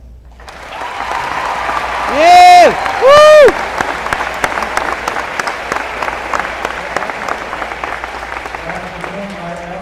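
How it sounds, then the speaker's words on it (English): A crowd at a 2015 Memorial Day pep rally at Byron Nelson applauds loudly and continuously, with two sharp whooping cheers rising above the steady clapping near the start. "please give a round of applause"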